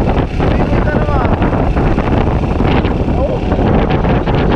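Strong wind buffets the microphone aboard a boat at sea, a constant loud roar with gusty swells and faint voices underneath.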